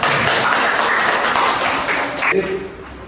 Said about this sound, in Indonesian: Tepuk tangan untuk Bella.